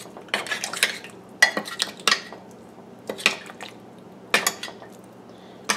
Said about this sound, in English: Get all the powder stirred up.